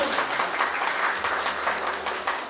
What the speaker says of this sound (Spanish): le brindamos un aplauso fuerte,